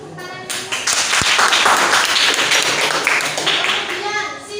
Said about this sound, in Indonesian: Boleh kasih tepuk tangan ini.